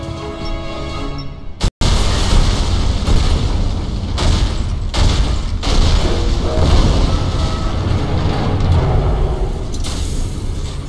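A pumping station explodes in the video game Alien Rage: after a brief pause, a loud sustained blast and rumbling roar with repeated booming hits carry on for several seconds.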